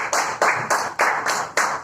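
A church congregation claps hands together in a steady, even rhythm, about three sharp loud claps per second, close and bright with no voices over them.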